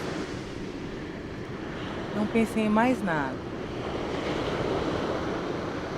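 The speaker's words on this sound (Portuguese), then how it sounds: "Ouçam o barulho das ondas." Steady Pacific Ocean surf rushes and washes continuously at a moderate level, with a person speaking briefly over the waves.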